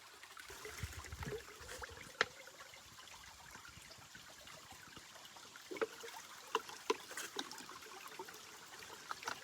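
Water trickles and splashes faintly from a small stream on a hiking trail as it is collected, with a few brief clinks and drips scattered over the steady flow.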